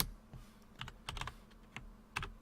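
Computer keyboard typing while entering Python code, a few quick clusters of keystrokes separated by short pauses, fairly close and moderately quiet with no talk.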